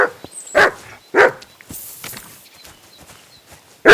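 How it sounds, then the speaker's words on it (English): A dog barks in the video game Kingdom Come: Deliverance 2, giving a few short, sharp, fairly close barks spaced out over a few seconds, with some quieter movement between them. "You'd better call back that dog."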